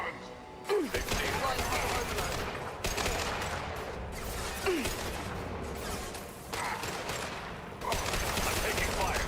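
Gunfire in the video game Mass Effect 2: bursts of shots crackle and rattle through a firefight, close and fairly steady, with voices talking over the shooting throughout.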